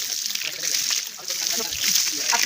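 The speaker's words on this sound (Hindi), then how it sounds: "और अब मेरा टुल्लू चालू हो गया।" Water gushing from the pipe of a Tullu electric pump in a village, a steady splashing, sloshing rush heard close up and continuing throughout.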